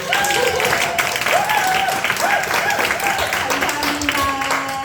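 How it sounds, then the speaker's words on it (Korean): A youth group audience at a church summer retreat opening service claps in dense, sustained applause, loud and close throughout, while a speaker's voice carries over the top. "수련회 박수를 쳐줄 거면 화끈하게 쳐주세요"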